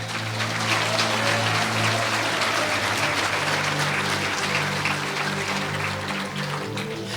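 A church congregation claps steadily as one continuous, dense wash of applause over a low, sustained hum, holding an even level throughout.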